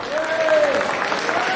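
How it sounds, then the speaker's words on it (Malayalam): Audience applause at an Onam celebration hosted by a Malayali association, a short burst of clapping with a faint voice and tonal sound briefly over it. "ബ്രസൂൾ മലയാളി അസോസിയേഷൻ ചെയ്ത പരിപാടിക്ക് നമുക്ക് നല്ലൊരു കൈയടി കൊടുക്കാം"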